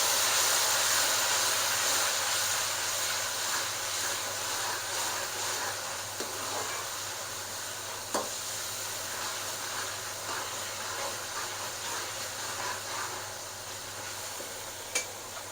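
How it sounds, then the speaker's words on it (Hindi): Garlic ginger paste fries in hot oil in a pot for a beef yakhni pulao, giving a steady close sizzle and hiss with occasional soft stirring knocks, no talking. "1 टेबलस्पून भर के मैंने लहसुन अदरक का लिया है, ये डाल दूँ। ये भी साथ फ्राई करेंगे"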